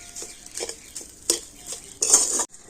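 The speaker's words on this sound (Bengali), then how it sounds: "একটু ভালোভাবে নাড়াচাড়া করে নিতে হবে" A spoon scrapes and clatters against a pan while a thick, crumbly laddu mixture is stirred over low heat, in a few short bursts with a soft sizzle underneath.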